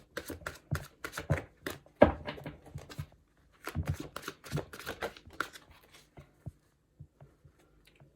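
Quick bursts of shuffling tarot cards, riffling in uneven clusters, close by, with a few soft taps and pauses toward the end.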